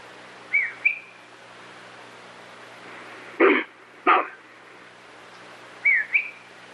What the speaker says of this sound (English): So that was kind of almost a whistle? It was a whistle.